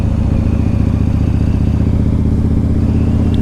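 Yamaha Raider cruiser with a 113 cubic inch engine runs with a deep, steady, loud rumble and close, continuous throb from start to finish.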